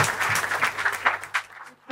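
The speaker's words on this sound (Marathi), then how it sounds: "सो एकदा जोरदार टाळ्या प्रसाद विधातेसाठी" Audience at a Marathi comedy roast show clapping in a short burst of applause, dense and close at first, then thinning into scattered claps before fading out.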